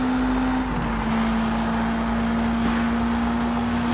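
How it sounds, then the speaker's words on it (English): Subaru BRZ hatchback driven in Sleeping Dogs, a steady engine drone holding one pitch with a constant hum throughout, loud and close, with faint road and traffic noise beneath and no talking. "My Subaru BRZ hatchback"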